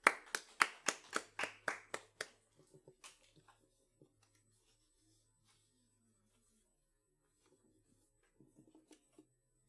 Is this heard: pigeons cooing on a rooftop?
no